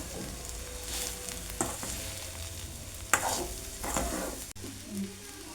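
Ivy gourd (dondakaya) curry being stirred and fried in a pan, steady sizzle with scraping spoon strokes at irregular intervals, close and clear with no talk.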